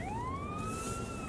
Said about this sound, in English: there's another police car.